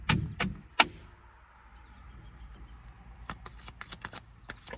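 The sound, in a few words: tarot cards being shuffled and drawn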